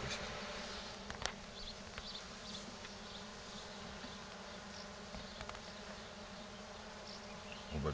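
A honeybee colony with an old queen hums steadily inside a Dadant hive, a constant close drone with faint individual bees passing over a low rumble.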